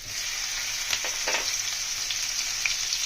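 Asafoetida, chopped ginger and green chilli hit hot oil with cumin for a vegetarian hing kochuri filling, giving a steady bright sizzle with faint stirring ticks, close and continuous with no talk.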